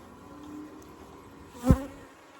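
Honeybees hum around an open hive during an August hive inspection, a faint steady buzz close by with one louder bee passing near briefly.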